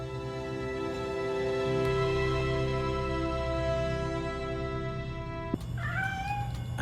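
A cat in the Gotham Knights video game gives a couple of short, high meows near the end, after a long stretch of droning game music with no talking.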